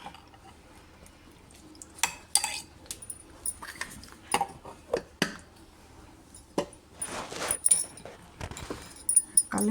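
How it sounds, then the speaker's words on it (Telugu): Lemon pickle with jaggery being stirred and mixed by hand, soft irregular squishing and scraping sounds with occasional clinks of a utensil against a container, fairly close and quiet. "కలిపి బాగా మిక్స్ చేయాలి."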